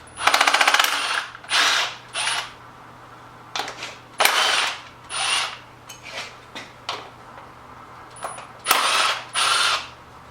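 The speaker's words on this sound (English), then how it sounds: "I'm going to be removing the coil packs and then the spark plugs" A ratchet wrench clicks while coil packs come off a Nissan 350Z engine. Bursts of rapid ratcheting come in short separate runs with brief pauses between them, close and crisp.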